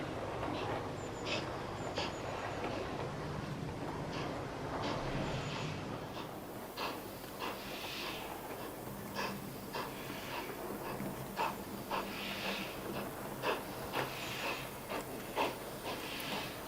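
Model GWR steam locomotive 6009 arriving on a layout, a steady rolling rumble with regular rhythmic clicks of wheels over rail joints, moderately loud and continuous, with no talking.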